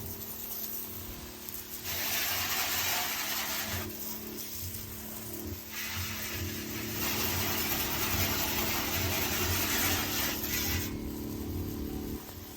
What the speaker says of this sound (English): Can you hear the pump running?